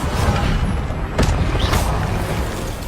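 Spells fire off in Hogwarts Legacy: a Stupefy and an Incendio burst through steady, booming game noise, with a sharp whooshing blast rising out of the rumbling background.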